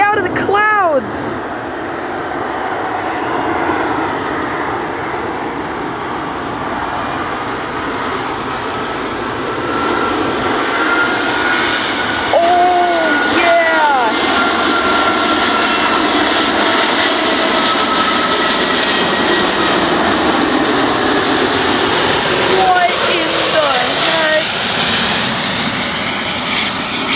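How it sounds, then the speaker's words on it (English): A British Airways Airbus A380 jet airliner flies overhead at Dulles, its engine roar swelling loud and broad, then holding steady as it passes, while people talk nearby. "Here comes the British Airways Airbus A380 out of the clouds."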